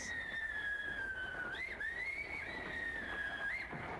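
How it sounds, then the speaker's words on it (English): In the 1972 horror film Horror Express, a long, wavering train whistle holds a high, sustained tone with brief upward bends, clear over a low background. "I think I just heard someone scream. No, it's just the train."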